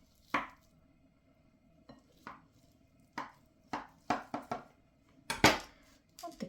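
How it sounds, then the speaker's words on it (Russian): A floured knife cuts through a thick log of cottage cheese dough on a board, giving a string of crisp, separate knocks and taps at an uneven pace, close up with no talk. "Нож припыляем мукой и разрезаем вдоль колбаску."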